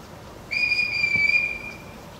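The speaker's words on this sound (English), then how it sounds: "Everyone in this house answers to a whistle." A single sustained shrill blast from a whistle blown on stage during a school theatre production of The Sound of Music, loud and steady for about a second and a half before fading, with no talking.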